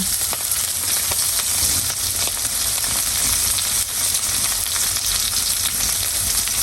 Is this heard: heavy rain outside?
no